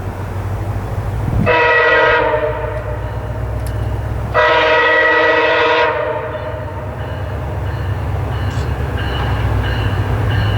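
A MARC commuter train horn sounds twice in long, loud blasts over the steady rumble of the train slowing into Point of Rocks station, with a softer tone near the end.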